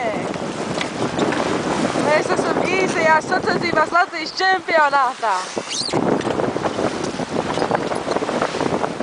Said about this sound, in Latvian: diezgan stiprs vējš